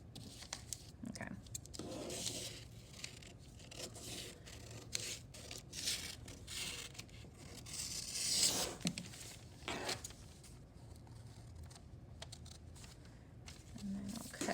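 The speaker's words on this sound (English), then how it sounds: "And I've already cut out my pattern, so I'll just cut my paper." Scissors cut through paper for a sewing pattern's front yoke, giving repeated close snips and papery rustling at low volume, with faint room noise throughout.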